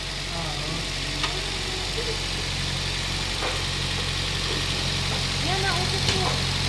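A Toyota Vios engine idles steadily after an overhaul, a constant low rumble with a faint ticking knock, while people talk over it nearby.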